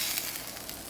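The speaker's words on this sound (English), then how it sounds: "I like to toss butter on my pancakes when I flip them" Butter sizzling on pancakes in a Lodge cast iron skillet at a camp cooking setup, a soft, steady hiss with fine crackle, faint and close, with no talking.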